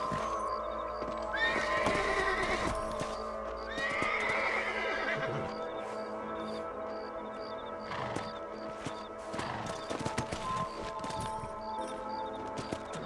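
Horses whinny loudly several times while hooves clip-clop along in Red Dead Redemption, with game background sounds filling the scene.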